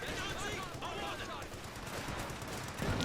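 Browning machine guns fire in a Company of Heroes 2 battle, a dense, continuous rattle of automatic bursts that fills the whole stretch amid loud battlefield noise.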